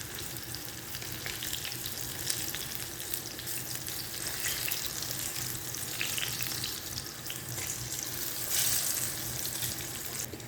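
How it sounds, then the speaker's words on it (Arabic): Eggplant slices frying in hot oil for a moussaka-style dish: a continuous, hissing sizzle with fine crackling and popping that stays fairly even and moderately faint, with no talking. "على بال بقى البتنجان بتاعي ما يتحمر"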